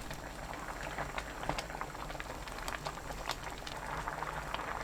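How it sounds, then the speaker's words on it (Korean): Siraegi porridge with crab sticks boils hard on high heat, a close, continuous bubbling and popping of thick liquid at a fairly even level throughout. "가끔 저어가면서 센 불로 2분 끓입니다"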